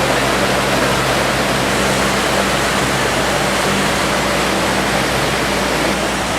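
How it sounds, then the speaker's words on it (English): A waterfall in Costa Rica roars as a loud, steady wash of broadband rushing water, unbroken throughout with no voices or other sounds. "And the waterfalls were very beautiful."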